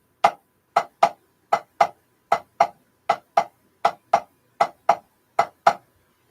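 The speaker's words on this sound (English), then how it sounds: "But a swung rhythm sounds like this." Sharp taps on a drum practice pad in a lilting long-short swung rhythm, about a dozen strokes grouped in uneven pairs, close and dry with no talking.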